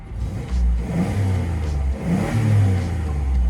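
The engine of a childhood family van revs as the van accelerates, giving a close, droning roar that rises and swells in two or three pulses.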